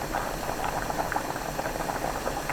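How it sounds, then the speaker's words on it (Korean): Potato and tofu soup with onion and green onion bubbling in a pot, a steady close simmer of small popping bubbles, continuous and fairly soft. "양파가 익을 때까지 끓이고 맛을 본 뒤 국간장으로 입에 맞게 간을 맞춥니다."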